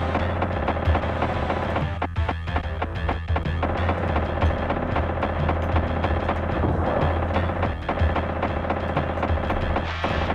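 Nonstop rapid gunfire from T2: The Arcade Game on the SNES, with dense crackling shots and small explosions rattling continuously over a steady electronic game background.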